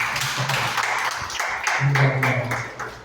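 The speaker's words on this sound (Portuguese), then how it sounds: "Vamos dar a salva de palmas." Church congregation applauding during a worship service, a steady wash of many hands clapping at moderate distance for a few seconds, with faint tonal hum beneath.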